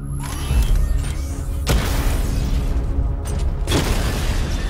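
Missiles explode against targets in Batman: Arkham Knight, two heavy booming blasts a couple of seconds apart over a steady mechanical rumble.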